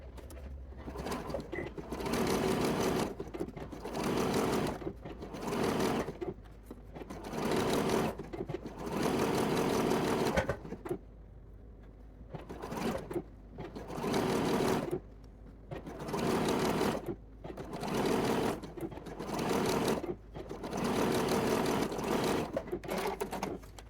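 A sewing machine topstitches a lace bodice in repeated bursts of fast, close mechanical whirring separated by short pauses, while pigeons coo softly in the background.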